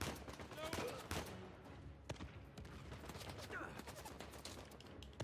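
Rapid bursts of gunfire in Uncharted 4, sharp repeated shots and a few heavier blasts in quick irregular succession, fairly faint overall with some game noise between them.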